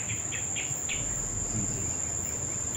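Steady, shrill insect chirping on a mountainside, a continuous high drone with a few faint pulsing chirps on top, constant in level throughout with no talking.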